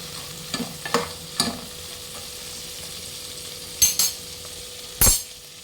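Mutton biryani masala stirred and fried in a pot, a continuous sizzle of oil with periodic sharp scrapes and clinks of a metal ladle against the pot's sides, close and fairly loud; no speech.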